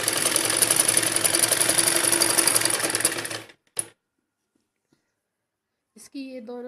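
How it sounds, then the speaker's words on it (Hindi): A sewing machine stitching fabric for a fancy gown runs in a fast, steady whir for a few seconds, then stops abruptly, followed by a short click and a brief voice near the end. "इसको बिल्कुल ऐसे साफ पकड़ के तब चलाना है सिलाई को।"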